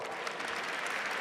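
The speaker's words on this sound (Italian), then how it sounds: "Un bel applauso." An audience at a regional memorial day event for victims claps in a dense, steady round of applause, fairly faint and without pause.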